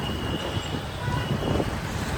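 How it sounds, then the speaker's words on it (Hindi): Road traffic in Bhilwara, Rajasthan, a low continuous rumble of passing vehicles, moderately near and fairly quiet, with no clear speech. "हाँ, बहुत गाड़ियों की आवाज़ आती है।"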